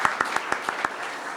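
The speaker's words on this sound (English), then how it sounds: "Let's give that a round of applause." Brief audience applause at a national report launch, a handful of distinct claps in quick succession over a softer wash of clapping, fading after about a second.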